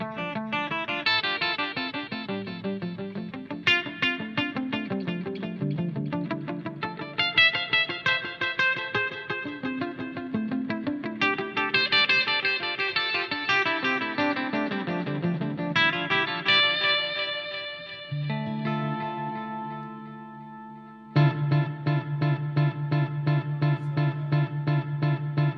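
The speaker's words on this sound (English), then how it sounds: "Bring in the reverb a little bit." Electric guitar running through a KMA Audio Machines delay pedal with reverb blended in, a continuous stream of picked melodic lines and chords washed in repeats, ending on a few steady sustained notes, loud and up front without speech.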